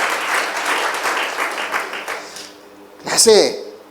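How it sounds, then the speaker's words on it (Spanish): A crowd claps steadily under a voice for a few seconds, fading out, then a short loud vocal burst follows. "Apláudale fuerte."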